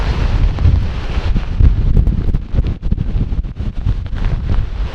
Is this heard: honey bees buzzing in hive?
no